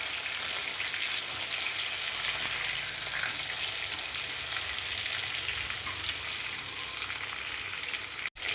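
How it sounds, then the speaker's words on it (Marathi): Stuffed brinjals frying in oil, giving a steady, loud, close sizzle that continues evenly throughout with no voices, ending in a sudden brief cut. "आता वांगे छान तेलामध्ये व्यवस्थित परतून घ्यायचे."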